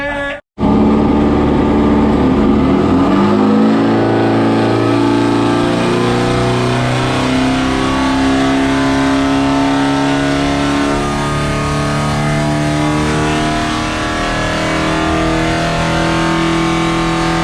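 A Class 11 race car engine with new exhaust systems runs on a dyno, starting abruptly, then revving up in a long, loud, sustained climb that holds near steady before easing slightly.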